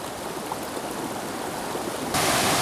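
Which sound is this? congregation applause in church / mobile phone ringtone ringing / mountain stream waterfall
mountain stream waterfall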